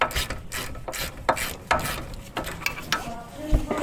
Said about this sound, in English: I've got electric ratchet to make things easier